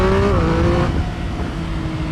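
A Triumph Speed Triple 1050 RS motorcycle engine revs hard up close, its pitch climbing and then dropping through a gear change before pulling steadily again, loud and alone.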